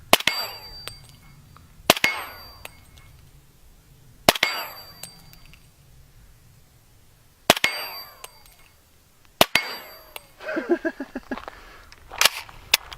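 Several sharp, loud .50 caliber heavy sniper rifle shots striking a stainless steel plate outdoors, each a cracking bang followed by a ringing metallic clang that decays over a second or two, spaced a few seconds apart.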